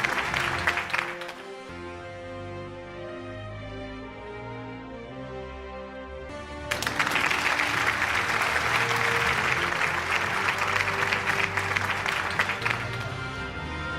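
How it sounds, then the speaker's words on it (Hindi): Audience applause at an annual awards show for a news network, steady clapping under music through the first half, then swelling louder and denser toward the end. "huge round of applause ladies and gentlemen"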